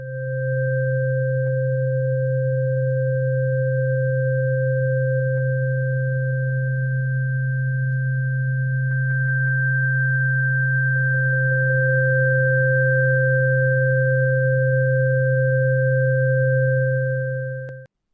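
Three added sine waves from an Arturia CMI V synthesizer, an emulation of the Fairlight, combine into one steady, pure sustained tone that holds unchanged for about eighteen seconds, with faint ticks over it and an abrupt cutoff.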